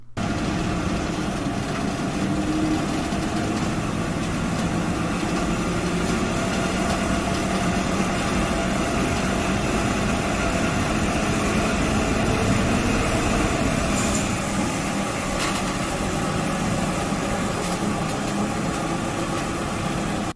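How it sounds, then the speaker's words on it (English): A giant Soviet-built walking dragline excavator runs with a steady, dense engine drone and rumble that holds evenly for the whole stretch, loud and continuous with no speech. "This is a giant dragline excavator built by the Soviet Union."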